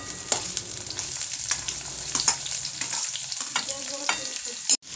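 Cumin and onion fry in hot oil, a steady bright sizzle with occasional stirring scrapes and a sharp clatter near the end, no voices.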